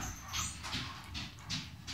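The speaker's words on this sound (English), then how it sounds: "Sorry, my dog's barking." A dog barks several times from somewhere in a home during a Thanksgiving meal, four short bursts coming in a loose rhythm against a low indoor hum, at moderate volume and slightly distant.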